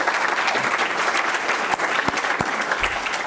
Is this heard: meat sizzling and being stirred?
no